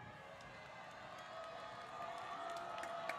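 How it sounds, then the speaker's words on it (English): Crowd at a Friday-night high school football game, Atlantic versus New Smyrna Beach, cheering and whooping from a distance as a broad, steady roar that swells over a few seconds. "The crowd gets loud here."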